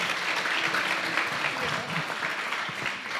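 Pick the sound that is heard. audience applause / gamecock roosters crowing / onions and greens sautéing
audience applause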